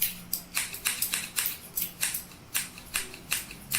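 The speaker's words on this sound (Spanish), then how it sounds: "Sí, son unas tijeras." Household scissors snip in a steady series of about a dozen crisp, close cuts, each a short bright rasp with brief gaps between, heard alone in a quiet room.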